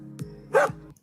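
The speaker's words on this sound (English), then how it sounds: "Look! Dog!" A cartoon dog in an animated beach episode gives a couple of short, close barks with a brief yip at the end, sounding alone without talk.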